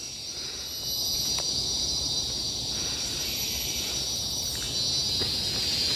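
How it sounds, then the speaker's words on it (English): Insects buzz and chirp steadily in a tropical forest nature reserve on a hillside trail, a continuous high shrill drone with a few faint clicks, fairly loud and unbroken throughout. "I can hear sounds of insects."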